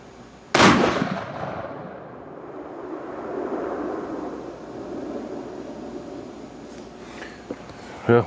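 A CVA Endura Pro muzzleloader rifle fires once with a sharp, loud outdoor blast that rolls off into a long fading echo, followed by faint distant sounds and a brief closing knock.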